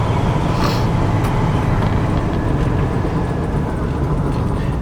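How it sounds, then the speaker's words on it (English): A 1967 Mercury Cougar Dan Gurney edition with a 2-barrel carburetor roars steadily from the intake while driving, a loud continuous drone with no talking over it. "you can still hear the roar of the intake"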